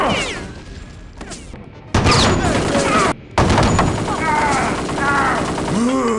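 Gunfire and explosive weapons from the crime shooter Kingpin: Life of Crime, loud rapid bursts and blasts cutting in and out under someone talking.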